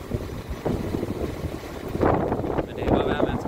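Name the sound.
wind outdoors at a station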